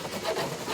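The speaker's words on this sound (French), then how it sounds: "Puis quelques coups de lime sur les bords pour les finitions." A file rasps along the edges of a plastic roof box during finishing, giving a short, close scraping rub with a soft rhythmic grain and no voices.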